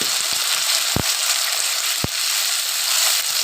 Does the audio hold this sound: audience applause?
no